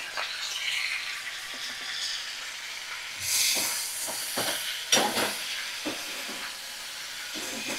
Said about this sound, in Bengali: এবার দেখো আমি ভালো করে সমস্ত মশলা আবারও কষিয়ে নিচ্ছি।